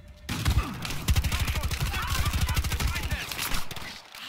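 Battlefield Hardline gunfire erupts after a brief quiet start as a fast, evenly pulsed automatic burst, loud and close, rattling for about three seconds before tapering off.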